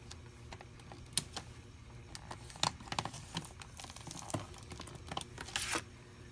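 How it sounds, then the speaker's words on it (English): Paper being cut for DIY traveler's notebook dashboards, quiet irregular snips and crinkles with scattered sharp clicks, close and soft with no talking. "So I'm gonna cut all of this, y'all, and then I will show you what it came out to be"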